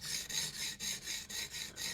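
A knife edge is drawn across a sharpening stone in quick, even rasping strokes, about eight passes in two seconds, close and clear with no talk.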